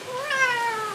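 A cat meows once in a drawn-out, rising and falling call, close and clear against a quiet room.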